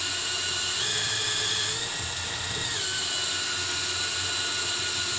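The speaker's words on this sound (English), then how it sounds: "You spin it and use some Scotch-Brite to clean the shaft." A motorcycle Sachs rear shock shaft spins steadily in a drill press while being cleaned with Scotch-Brite, producing a continuous whirring drone with a high-pitched whine, close and unbroken throughout.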